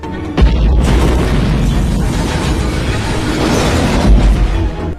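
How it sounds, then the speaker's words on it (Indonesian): A deep, loud boom rolls out and keeps rumbling as a continuous roar, with another heavy thud near the end. "Sambil menunggu bomnya meledak"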